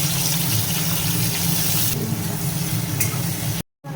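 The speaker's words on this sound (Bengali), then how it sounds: "এখানে বেরেস্তা করে নেবো পেঁয়াজের" Onions fry in hot oil for beresta during chicken kosha cooking, giving a loud, continuous sizzle and crackle that cuts off abruptly at the end.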